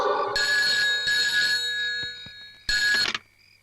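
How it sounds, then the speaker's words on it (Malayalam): A telephone rings in a home in a Malayalam film scene, with bright electronic trill bursts in a start-stop pattern: a long ring, a short pause, another ring, then a final short burst that cuts off. "ഫോൺ എടുക്കണം."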